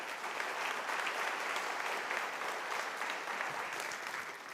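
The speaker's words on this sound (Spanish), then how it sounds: "le pido un fuerte aplauso para Walter, para Raúl, para Renato, para Ju" An audience claps steadily and evenly for the speakers after a tire industry panel in Colombia, a dense wash of applause held at moderate distance from start to finish.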